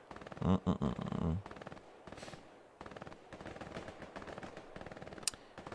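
Distant automatic gunfire from an 18-versus-18 Hell Let Loose tournament match, a quick burst of rapid shots early on, then fainter, steadier firing and battlefield rumble throughout.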